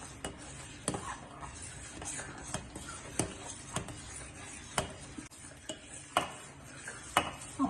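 Spoon stirring boiling milk in a pot while making milk cake, with irregular sharp scrapes and clinks against the metal sides over a faint simmering background.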